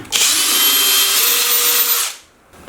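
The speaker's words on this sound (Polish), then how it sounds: "wiertło ósemka." A power drill fitted with an 8 mm bit whines loudly and steadily for about two seconds, then spins down and stops, with no talking.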